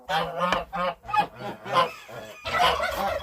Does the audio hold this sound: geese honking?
yes